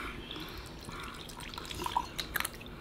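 Water poured into a glass of vodka, heard close up as a soft trickling stream with a few bright drips and splashes near the end, with no voices.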